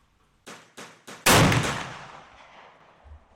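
Argentine Rolling Block rifle firing swaged 43 Spanish cartridges: three light clicks, then one loud sharp shot that rings and decays for about two seconds.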